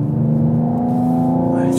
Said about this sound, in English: I just love hearing that turbo.